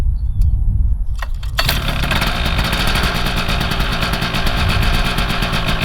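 Paramotor engine cranks over and catches after about 1.5 seconds, then runs steadily at a loud, rough idle with a buzzing two-stroke character, close up, with no talking.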